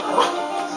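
A dog whimpering with a short yip, a close, high-pitched whine lasting under a second.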